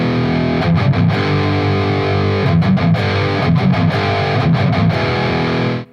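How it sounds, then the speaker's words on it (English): Heavily distorted electric guitar plays a chugging palm-muted riff, tight low-register bursts in a steady rhythm with brief accented stabs, loud and close with no voices, ending abruptly. "if you add the palm muting, which you're supposed to, it would sound like this"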